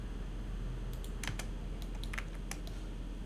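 Computer keyboard keys pressed while working in Blender, a handful of quick, close clicks in short bursts over a steady background hiss.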